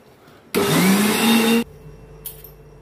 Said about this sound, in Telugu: ఇందులో కొన్ని వాటర్ వేసుకుంటూ మనం మిక్సీ పట్టుకోవాలి